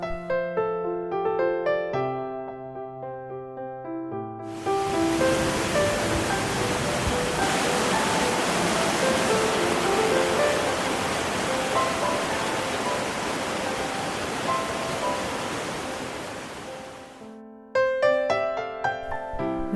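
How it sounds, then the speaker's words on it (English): Multnomah Falls in the Columbia River Gorge, Oregon, roars as a steady, dense wash of falling water for most of the stretch, with soft music before and after. "One of the most breathtaking sights in the region is the Multnomah Falls."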